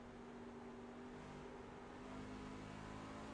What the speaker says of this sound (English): We'll turn it up a little bit for everybody to hear the sound of the truck.